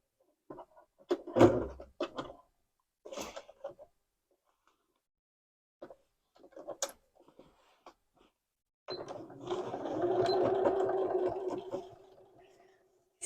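A free-arm sewing machine stitches a patch over a hole in the crotch of a pair of jeans. It runs as a steady, close whirring stretch for a few seconds, after scattered handling clicks and knocks.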